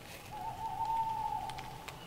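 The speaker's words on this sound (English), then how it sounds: "That's just the owls." Owls calling in a forest at night, heard from inside a tent: one sustained hooting or cooing note held for over a second, moderately close, over a quiet nighttime background.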